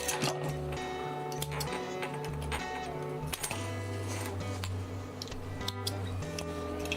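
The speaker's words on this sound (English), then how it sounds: "it seems like it's sewing okay" A sewing machine top-stitches a floral dinosaur water bottle bag, its motor humming under a quick, steady mechanical ticking of the needle that stops briefly and then starts again, close and fairly quiet.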